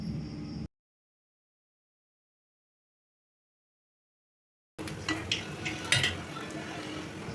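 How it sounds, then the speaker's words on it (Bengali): Potato hashbrowns frying in a pan: a brief sizzle at the start, then a long stretch of silence, then renewed frying with stirring and light clinks of utensil against pan. "বাকিগুলো আমি একে একে ভেজে নিচ্ছি।"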